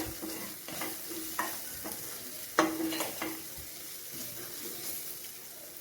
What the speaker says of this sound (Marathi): पाव चमचा हळद दोन चमचे लाल तिखट अर्धा चमचा धने पावडर व्यवस्थित मिक्स करून घेऊया मसाले